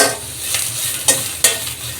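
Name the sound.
soya chunks frying in a pan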